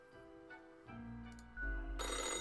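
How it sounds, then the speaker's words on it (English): An old-fashioned telephone rings in the game Death and Taxes, a harsh metallic bell chatter that starts faintly, then grows louder in bursts over a low background hum, with nobody talking. "The old-fashioned phone suddenly rings with an ear-piercing metallic chatter."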